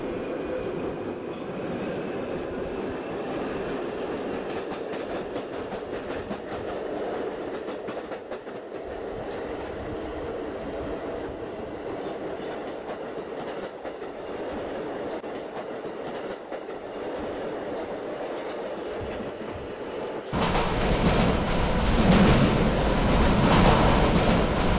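A Toronto subway Line 1 train rolls toward Spadina Station, a steady loud rumble of wheels and car noise throughout, swelling louder and harsher near the end as the train brakes or enters the station.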